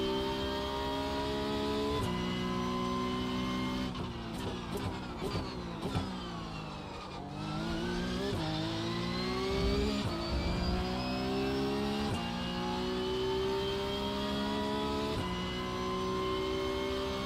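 A Porsche Cup race car engine laps the Spa circuit, screaming loudly and continuously close-up, with repeated gear shifts, throttle lifts and rising revs through the whole stretch.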